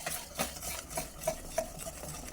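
Potato filling for bonda being stirred in a pan with a spoon, giving a run of soft scraping, rubbing strokes at an irregular rhythm, close and fairly quiet, with no voices.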